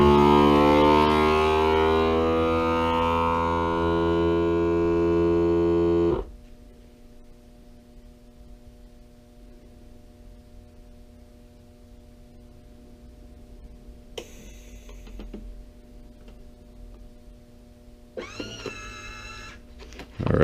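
A vacuum sealer machine runs loud and steady with a harmonic motor whine for several seconds sealing a bag holding 25 rounds of American Eagle 5.56 62gr FMJ ammunition, then cuts off abruptly to a quiet hum with a few small clicks.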